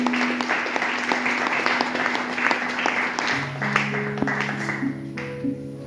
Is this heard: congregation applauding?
yes